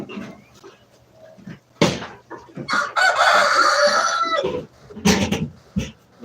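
A rooster crows loudly and close by, with scattered clucking from other chickens before and after.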